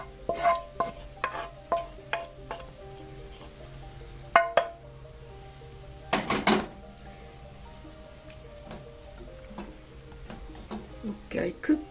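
Daikon is stirred with aka miso sauce in a pan, with intermittent clinks and scrapes of a utensil and a soft sizzle, under a speaking voice.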